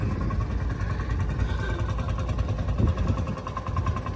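A 40k Chamberlain crawler tractor fitted with a 6LX Gardner diesel runs steadily, its low, even engine note close and continuous with a faint mechanical clatter on top, no voices over it.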